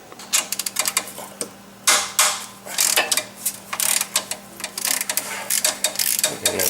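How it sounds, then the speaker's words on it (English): Ratchet wrench clicking in quick bursts while starter bolts are loosened on a Firebird, Camaro or Corvette, close and fairly loud, with brief pauses between runs of rapid clicks. "Next step is to remove the starter bolts, this one and this one"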